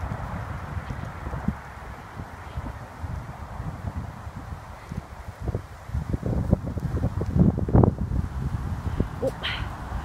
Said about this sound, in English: it gets really windy up on this top field